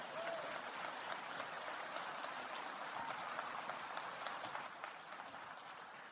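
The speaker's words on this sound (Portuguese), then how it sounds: "Um aplauso" Faint, steady audience applause after a personal talk on stage, a continuous wash of distant clapping that holds evenly throughout.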